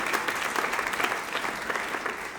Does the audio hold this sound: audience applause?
yes